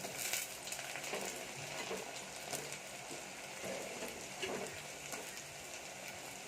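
Onions, tomatoes and green chili fry in a pan with a soft, continuous sizzle and faint scraping stirs, fairly quiet and close, with no voices.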